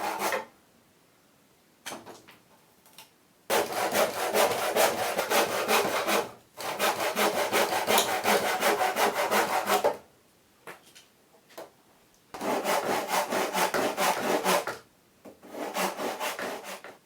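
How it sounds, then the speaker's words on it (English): Edge of a homemade chicken feeder being trimmed, with long bursts of rasping, saw-like cutting broken by short pauses, fairly close and steady. "You can then trim this edge for a feeder to look better"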